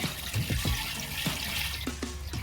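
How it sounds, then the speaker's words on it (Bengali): Water is poured over flour (maida) in a bowl to wash it, making several splashy pours and sloshes close up with no speech. "জল দিয়ে ধুয়ে নেব জলটা ঢেলে নেব আবার আমি জল দেবো"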